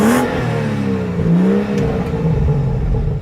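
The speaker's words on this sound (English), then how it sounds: "Let's do a little rev time." A BMW 435i M Sport from 2017 has its engine revved in a couple of rising and falling blips, loud and close, with no talk over it.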